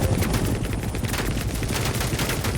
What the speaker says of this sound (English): it is kind of cool landing under gunfire and putting on a show for everybody on the ground